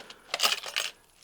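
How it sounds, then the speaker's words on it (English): A handful of metal keys jangling briefly, a quick bright clinking rattle of two or three shakes, close and alone. "Keys, more keys."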